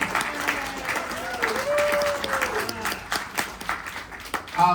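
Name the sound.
applause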